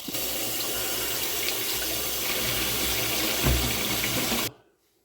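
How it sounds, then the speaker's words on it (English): Tap water runs steadily into a large cooking pot being readied for boiling sweetcorn, a loud continuous rushing splash that stops abruptly near the end when the faucet is shut off, leaving near silence. "So firstly, we'll fill this up with water in preparation."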